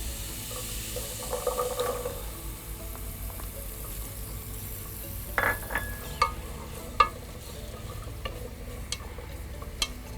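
Carrots go into a pot of jollof rice base with lamb sauce, giving a soft steady sizzle with stirring, scraping and a few light clinks nearby.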